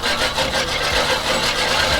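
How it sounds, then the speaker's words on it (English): A greens mower reel spun backwards against its bed knife with coarse sharpening paste, giving a steady, dense grinding rasp that pulses slightly with each rotation and continues alone throughout. "spinning the reel backwards against the bed knife and just sharpening it like that"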